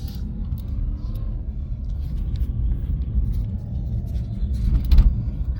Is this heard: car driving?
yes